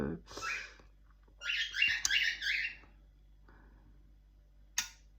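A few sharp parrot squawks and chattering calls in short bursts, with quiet pauses between and a brief high screech near the end.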